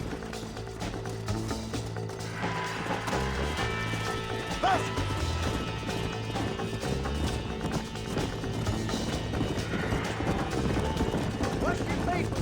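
Horse hooves galloping in the Red Dead Redemption video game, a steady drumming run under dense game music and ambience, with occasional voices and a brief clatter midway.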